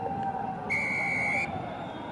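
A referee's whistle sounds at a rugby sevens match, Australia against Canada in São Paulo, in one sharp, clear blast of under a second over wet crowd and field ambience.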